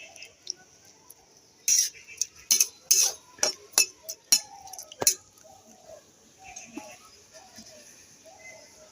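A metal spoon clinks and scrapes against a pot while stirring onion skins into water, a quick run of sharp rhythmic taps followed by softer scattered knocks, with a voice talking faintly in the background.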